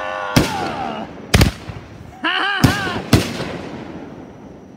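Fireworks bursting at a birthday fireworks show: four sharp loud bangs spaced about a second apart, with whistling, crackling effects between them.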